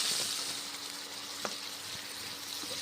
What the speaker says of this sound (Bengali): কুমড়োগুলো ভেজে নিচ্ছি